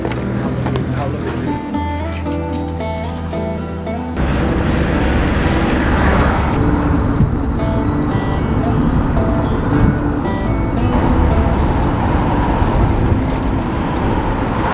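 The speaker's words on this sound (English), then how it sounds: "We're gonna have a bit of a drive around it and see what's there." Car driving around the Isle of Portland, a tied island in Dorset joined to the mainland by road: a steady, loud engine and road rumble runs throughout, changing character after a few seconds as the drive continues.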